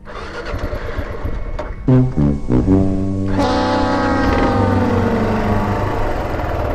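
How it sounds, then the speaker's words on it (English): A Kawasaki KLR motorcycle engine, not yet warmed up, cranks and catches, revs up loudly, then settles into a steady, throaty idle close by. "Engine isn't quite warmed up yet."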